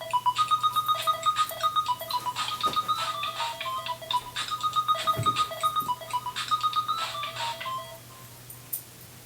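A quirky electronic robot-style ringtone plays alone, with repeated bursts of beeping, warbling synthetic tones in a bouncy rhythm over a steady low hum, fairly close and clear.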